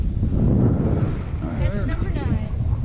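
Wind blows outdoors on the water during freshwater catfishing, a loud, rough rumble buffeting the microphone, with a voice speaking over it.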